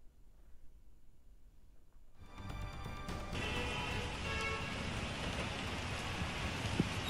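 Heavy rain pours down on flooded city streets in Pune, India, with traffic moving slowly; the clip opens quiet, then a dense, steady roar of rainfall builds after a couple of seconds and stays loud to the end, with no voices.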